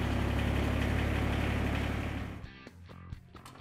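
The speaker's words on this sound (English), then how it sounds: "We want to go ahead and start the tractor and let it run and look for leaks." Ventrac 4500 tractor engine running at a steady idle with a low hum, then cutting off abruptly, leaving quiet clicks and knocks.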